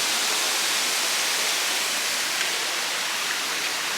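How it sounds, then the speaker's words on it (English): A small waterfall at Disney's Wilderness Lodge, emptying into a pool, rushes steadily nearby, a constant broadband splashing roar that never lets up, with no voices. "the water, see, is flowing down this little waterfall here underneath where I'm standing"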